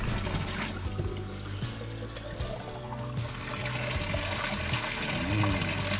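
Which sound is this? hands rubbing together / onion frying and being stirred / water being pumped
water being pumped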